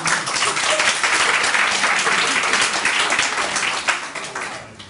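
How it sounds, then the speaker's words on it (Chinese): An audience clapping at a Taipei networking meetup during two-minute self-introductions, a dense, even burst of applause that holds steady and then thins toward the end. "然后就拍手了"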